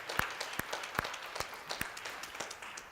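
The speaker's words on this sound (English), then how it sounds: "give them a round of applause for everything that they've done" A small audience at a family addiction recovery talk gives the volunteers a round of applause: sparse, distinct hand claps at a moderate pace, fairly quiet and somewhat distant.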